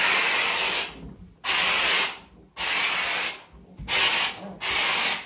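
A Vapodil steam cleaner brush sprays hissing steam along a bathtub edge in five loud bursts, each about a second long, separated by short silent gaps.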